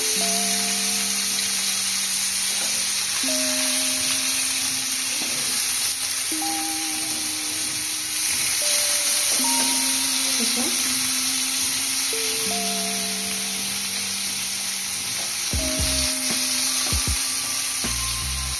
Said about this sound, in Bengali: এইভাবে একে একে উল্টে নেব। এই উল্টো দিকটাও একটু ভাজা হবে।